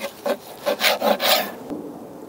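A knife saws through smoked brisket, a hot-and-fast cook with rendered fat and a crumbly texture, in several close rasping strokes over about two seconds that fade into quiet, with no talking.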